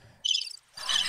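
Crickets chirp in two loud, close bursts of high trilling with a short pause between them, and no voices.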